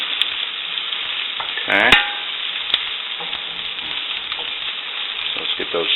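Spam slices sizzling and frying steadily in a pan during a Spamtember Saturday cook, with occasional scrapes and stirs, a brief louder clatter near the middle, and a single short spoken word.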